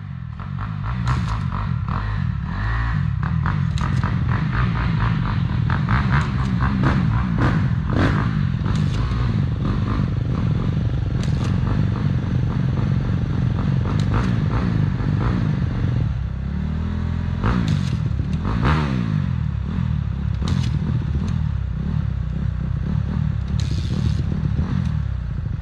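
A dirt bike stuck in mud runs continuously with a loud, close engine drone that rises and falls with revs, mixed with clattering and scraping noises and no talk.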